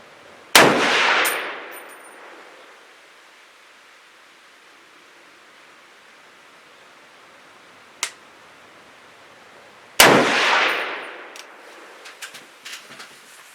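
Two sharp, loud rifle shots from a rifle fed by a Magpul 10-round magazine, spaced well apart, each with a long decaying echo across an outdoor range and a faint click between them.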